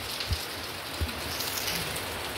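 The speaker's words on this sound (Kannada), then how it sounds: "ಬಿಡುವ ಅಂದಾಜಲ್ಲಿಲ್ಲ, ಜೋರುಂಟು ಮಳೆ" Heavy rain pours down in a dense, steady hiss, with a couple of louder drips landing close by, uninterrupted for the whole stretch.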